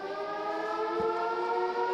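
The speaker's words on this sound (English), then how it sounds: "Half-time siren sounds." A loud, steady half-time siren wails throughout at a France v Wales rugby match, its sustained tones holding level with no break, over a faint crowd-like background.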